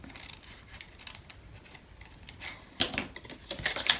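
Scissors trim paper for a haunted house mini album, a series of quick close snips that starts soft and grows louder and sharper toward the end, with no talking.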